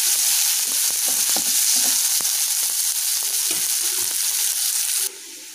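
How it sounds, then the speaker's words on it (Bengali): Chopped onions fry in a pan of oil for a pona fish jhal, a steady loud sizzle with scattered crackles and stirring scrapes, which drops away abruptly near the end. "এবার পেঁয়াজ কুচি করে রাখা একটা বড় দিয়ে দেবো। এবং এটা ভালো করে ভেজে নেব,"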